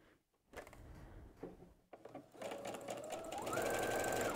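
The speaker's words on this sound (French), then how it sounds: "je vais faire une seule couture d'un bout à l'autre" A domestic sewing machine stitches a single seam across small quilt fabric patches, starting with a few short bursts and handling clicks before settling into a steady, close whirring run.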